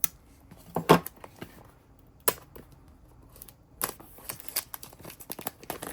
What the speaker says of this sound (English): So let me go ahead and cut this open.